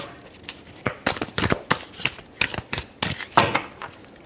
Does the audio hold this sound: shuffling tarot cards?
yes